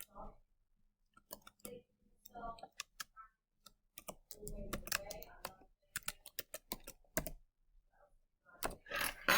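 Keystrokes on a computer keyboard arrive in irregular bursts of sharp clicks, fairly close, with quiet pauses between runs and faint voice sounds mixed in.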